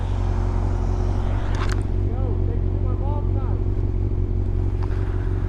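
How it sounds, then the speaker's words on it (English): A 1990s Yamaha YZF600 motorcycle engine drones steadily while being ridden through snow, a constant low hum that stays close and loud throughout. "I'm driving this bike, which is a 1994 Yamaha 600."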